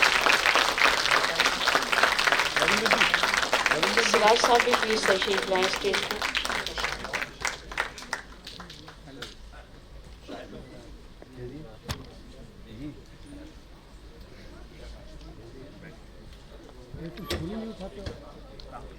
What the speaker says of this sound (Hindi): एक बार दोनों आर्टिस्टों के लिए वाकई में ज़ोरदार तालियां बजाइए।